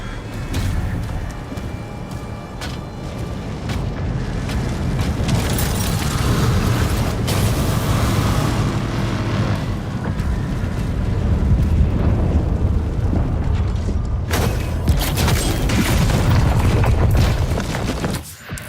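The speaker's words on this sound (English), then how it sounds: "the Blighted Hell Knight will build up and release a massive explosion" A Blighted Hell Knight in Doom: The Dark Ages builds up and releases a massive explosion, a loud, dense, sustained roar of rumbling blasts and booms that continues without a break.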